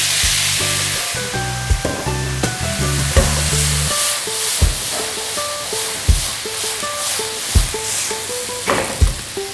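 Pieces of rabbit sizzling in a hot pan during deglazing, a loud steady frying hiss with repeated spoon or spatula scrapes and knocks every second or so, close up and without voices.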